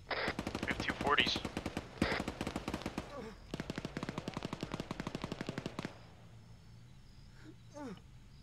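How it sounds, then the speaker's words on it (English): Bursts of rapid 240 machine gun fire in a military video game, several long sustained volleys with short pauses, loud and close, then quieter ambient sounds. "take off their silencer, and just start shooting in the air, see if they bring him out. We have 240s."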